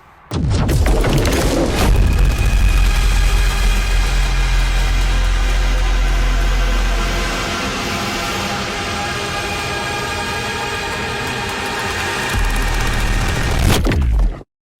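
A Renault 5 runs on the road, a loud, steady engine and road rumble heard from inside the car, easing somewhat midway and swelling again near the end before cutting off.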